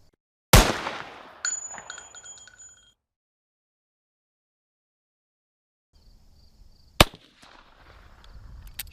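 Old-school .22 pistol firing two sharp shots about a second apart, with ringing metallic tones trailing the second, then near-silence before a single loud crack over scuffling handling noise.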